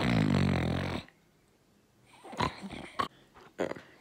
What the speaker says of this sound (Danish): det er hende, der snorker